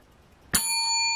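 A single bright bell ding for a small scratch-off lottery win, struck sharply and ringing on with a clear sustained tone.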